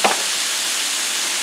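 Onions frying on a griddle give off a steady, bright sizzling hiss, uniform and close, with no talk over it.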